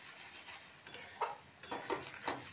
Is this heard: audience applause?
no